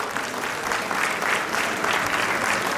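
An auditorium audience at a college prize-distribution closing ceremony applauds the runner-up team with sustained, loud, dense clapping that swells in gentle waves throughout.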